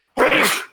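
A single sharp human sneeze, close and fairly loud, bursting out abruptly and fading within under a second.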